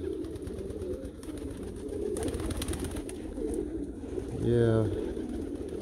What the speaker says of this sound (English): They are gorgeous birds, these tiger grizzles and the carnos, or meulemans they're called.